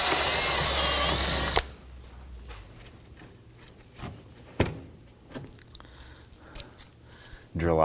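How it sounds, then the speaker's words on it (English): A power drill whines loudly for about a second and a half while drilling out a rivet on the lower bumper of a 2003-2014 Volvo XC90, then stops, leaving quiet background with a few faint clicks and knocks. "We need to go ahead and drill this out."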